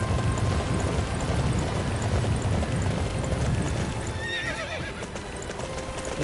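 Horse hooves clip-clop at a steady gallop in the video game Dynasty Warriors 9, loud and continuous, with a whinny and game effects rising midway.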